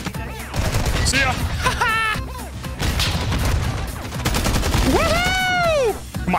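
ISO Hemlock heavy rifle fired in a Warzone match modded to feel like Grand Theft Auto: dense, loud, rapid gunfire throughout, mixed with game sounds and someone talking.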